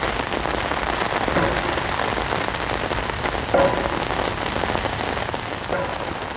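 Steady rain pattering on water and ground at a carp fishing swim, a dense, even hiss that holds throughout with no voices.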